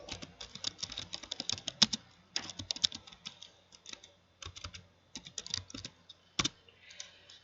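Typing on a computer keyboard while entering network configuration commands, heard as bursts of quick close key clicks separated by short pauses, with no talk.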